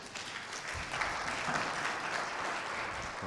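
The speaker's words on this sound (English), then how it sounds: "Round of applause." Audience applause at a university startup competition, a dense, steady wash of clapping that holds evenly for the whole few seconds.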